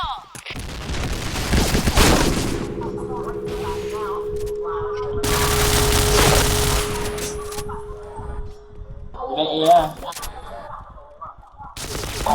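Gunfire in a Thai clan-war shooter match, with bursts of shots and booms between quieter stretches and a player's voice over the top.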